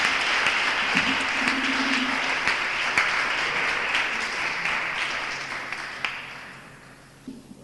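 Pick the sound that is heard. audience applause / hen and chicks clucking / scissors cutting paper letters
audience applause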